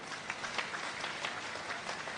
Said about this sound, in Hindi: उनके लिए भी ताली बजाकर स्वागत करें।